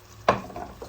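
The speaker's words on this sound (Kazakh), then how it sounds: "Жуамызды салып аздап қуырып алған соң" Onions tipped into a pot of meat that is already frying give one sharp sizzling burst, which then settles into a quieter, steady crackle close by.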